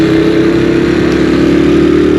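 A 2022 Honda CD 70 motorcycle engine, loud and close, droning with a steady mid-pitched hum as it is given a bit too much throttle during a local ride, with no voices.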